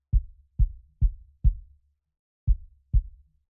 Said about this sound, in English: bypassed, you're still hearing a little bit of that clickiness to the original kick sound